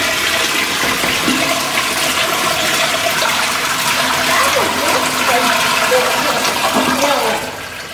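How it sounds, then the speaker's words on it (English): A Peerless toilet in a cinema restroom at a shopping mall flushes with a loud, steady rushing gush of water that runs for most of the stretch, then tails off abruptly near the end. Faint voices are audible underneath. "It's a cool flush?"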